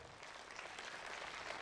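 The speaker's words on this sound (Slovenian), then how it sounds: "Še en aplavz." An audience claps and applauds in a dense, continuous burst that stays fairly even throughout, with no voices standing out above it.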